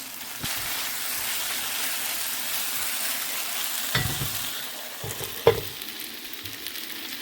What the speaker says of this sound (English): I'm going to mix this all in